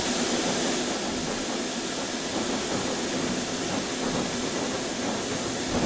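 A train runs in the video game Transport Fever, a steady broad rushing hiss that stays even and moderately loud, with no talk.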